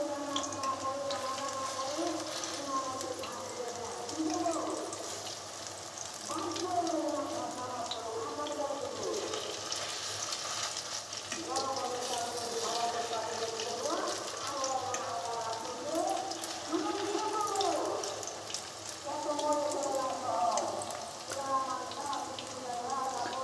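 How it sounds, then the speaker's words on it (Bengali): Noodle pakoras fry in hot oil as they are turned, a soft continuous sizzle under a person talking throughout. "তো এভাবে করে উল্টে পাল্টে আমি পকোড়াগুলোকে ভেজে নেব।"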